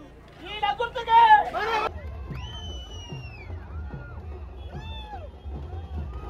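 A crowd at a Telangana political campaign rally cheers and chatters in a brief loud burst, followed by a quieter stretch of hubbub and babble with voices and whoops rising and falling.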